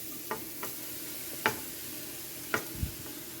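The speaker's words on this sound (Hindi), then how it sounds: "ये देखें इसको हम ऊपर नीचे थोड़ा करके थोड़ा सा हम इसे तलेंगे, फ्राई करेंगे हल्का सा" Grated carrots frying in melted ghee for carrot halwa, stirred now and then: a soft steady sizzle broken by a handful of brief scraping and tapping strokes, fairly quiet and close.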